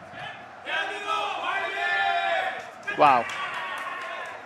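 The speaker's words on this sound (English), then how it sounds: "that's the Korean team cheering on their player" Korean team crowd cheering for their player at an FC Pro Mobile esports playoff event in Bangkok, a rising shout and sustained cheer swelling in bursts, mixed with a commentator's voice talking over it.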